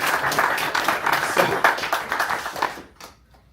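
Audience applause at a monthly meeting, a dense patter of many hands clapping steadily for about three seconds before fading out quickly.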